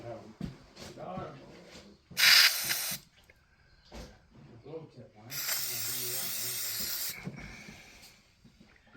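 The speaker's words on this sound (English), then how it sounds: "Compressed air? Yeah." Compressed air blasts through a Ferguson TEA20 tractor carburetor in two loud hissing bursts, the second one longer, with people talking before and between them.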